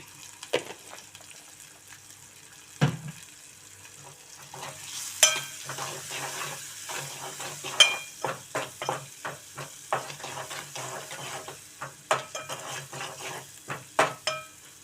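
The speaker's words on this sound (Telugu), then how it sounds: "మీడియం ఫ్లేమ్లో వేయించుకోవాలండి." A drumstick and tomato curry fries on a medium flame, a low steady sizzle broken by a run of sharp spatula scrapes and clinks against the pan, close up and growing busier toward the end.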